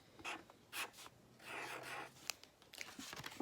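A pen or marker writes a one-half label on a paper fraction strip, producing faint close scratchy strokes and rubs in short bursts.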